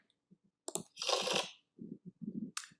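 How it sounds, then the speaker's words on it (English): Playing cards are riffled in a brief papery burst, surrounded by soft taps and clicks as the deck is handled, close and quiet. "I shuffle up the deck."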